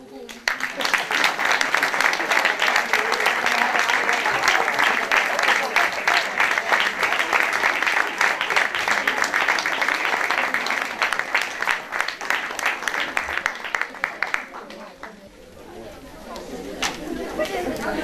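Loud, sustained applause from an audience at a children's performance for International Women's Day, with murmured chatter mixed in, fading out near the end as the room quiets.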